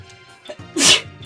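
One loud, close sneeze bursts out sharply after a brief inhale, standing out against quiet background sound.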